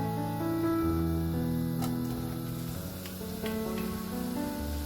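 Onions dropped into a hot pan of oil give a steady, close sizzle and crackle that keeps going throughout, with a few faint clinks and no talking.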